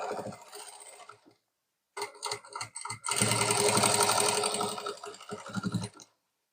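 Sewing machine stitching a saree belt, running in short bursts with brief stops, then one long steady run followed by a few quicker stitching spurts, close and clear with no voices.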